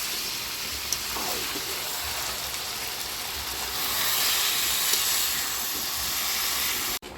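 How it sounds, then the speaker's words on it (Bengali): Goat mutton braising in a pot gives off a steady, dense hiss of sizzling and steam that swells slightly midway and ends with a sharp click. "মাংসটা কষানো হচ্ছে।"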